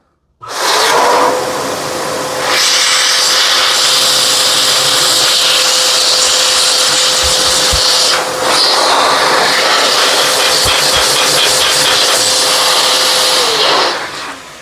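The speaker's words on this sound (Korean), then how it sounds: "반드시 물기를 송풍기로 날려서 다 바짝 말려줘야 하겠습니다" A loud, steady rushing whoosh of an air blower drying wet connectors on a Samsung Wind-Free wall-mounted air conditioner after cleaning runs continuously for several seconds, with brief pauses and small clicks as it moves around.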